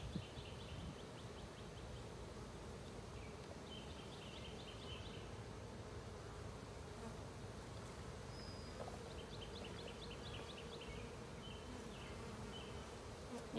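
Honey bees buzz around an opened hive during a March inspection, a steady, dense hum filling the whole stretch with no pauses and no voices.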